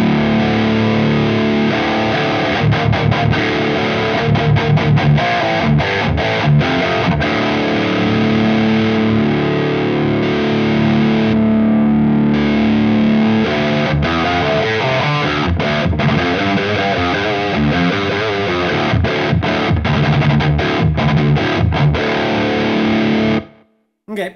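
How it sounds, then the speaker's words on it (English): High-gain electric guitar through a Synergy Engl Savage amp module, loud and close, with dense distorted riffing, palm-muted chugs and sustained chords before a sudden cut at the end. "I'll switch from low to high so you can hear the gain difference"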